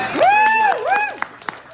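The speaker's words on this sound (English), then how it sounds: "Let's cheer him on." At a lively eight-year anniversary party, a crowd lets out a long rising-and-falling whoop of cheering, close and loud, followed by a few sharp scattered claps.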